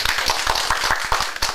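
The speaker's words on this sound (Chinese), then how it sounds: "这个时候我们就用热烈的掌声先欢迎第一位楚香烈牧师" Warm applause at a Toronto church-style gathering welcoming a pastor: brisk, fairly close handclaps in a quick, even rhythm, with no talking.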